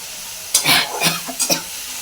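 Spices and tomato frying in a pan for an egg and potato curry, with three or four quick stirring scrapes over a soft sizzle, close by and without talk.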